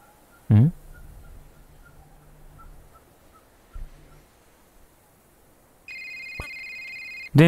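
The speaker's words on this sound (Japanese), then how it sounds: "電話。" A telephone rings in the A Short Hike video game, a bright electronic trill starting near the end after a soft low tone and some sparse in-game chirps, loud and clear against quiet ambience.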